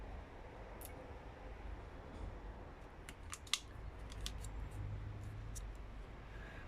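Scissors snip through transformer insulation paper for an EL84 push-pull output transformer winding, a run of sharp close clicks and crisp cuts clustered mid-way over a low steady background hiss, with no talking.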